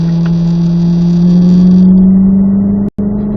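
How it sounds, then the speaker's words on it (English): A car engine pulls hard and steady in fourth gear along a racetrack straightaway, a loud sustained drone that holds its pitch close up, with a brief dropout near the end. "we're left lane, fourth gear here, all the way down the straightaway"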